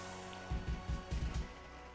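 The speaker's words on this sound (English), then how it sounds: "it's absolutely chucking it down here" Heavy rain pours down in a steady, dense hiss that fills the whole clip, with a short run of dull low thumps partway through.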